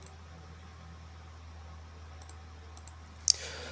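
Computer mouse clicks, a few faint ticks followed by one sharp, close click near the end, over a quiet background hum.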